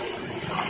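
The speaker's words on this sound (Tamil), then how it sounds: "தண்ணி" Water rushes and splashes in a steady, continuous wash during an outing at Ayyampalayam, fairly loud and close, with no voices over it.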